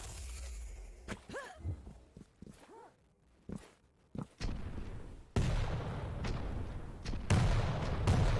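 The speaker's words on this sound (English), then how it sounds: "Rocket spam to try and stop any kind of advancement there from Cha1n." Rocket fire and explosions from the Quake arena shooter during a Quake Pro League match, with scattered sharp blasts and booms early, then a denser, louder stretch of continuous combat noise in the second half.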